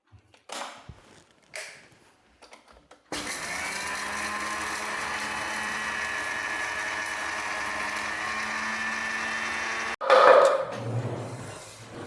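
A mixer grinder powders chicken eggshells, a loud steady motor whir running unbroken for about seven seconds after a few short bumps, then stopping with a clatter.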